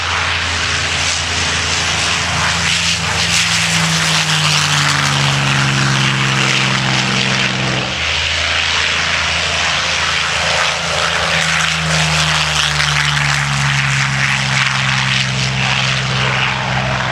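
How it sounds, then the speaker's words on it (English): A B-25 bomber's twin radial engines roar at a WWII airshow in Virginia Beach. The loud, throbbing propeller drone sweeps past with pulsing, shifting pitch and stays continuous, close and dominant throughout. "Twin radial engines thundering away as the B-25..."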